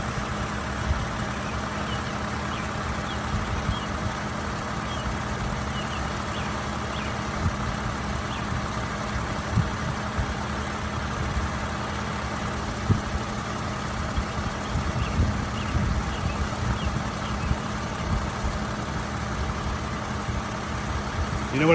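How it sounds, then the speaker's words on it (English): A 2010 Toyota Avalon Limited with 107K miles idles smoothly, its engine giving a steady low, even hum with soft ticking throughout, recorded close and with no talk. "now I'm just going to hover here and let you listen to this engine run at idle"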